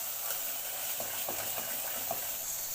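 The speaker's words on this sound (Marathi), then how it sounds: "मसाला अजून एक दोन मिनिट छान चांगला आपल्याला परतून घ्यायचं आहे" Masala fries quietly in oil in a pan while being stirred, a soft continuous sizzle with a few gentle scraping strokes, fairly faint and with no one speaking.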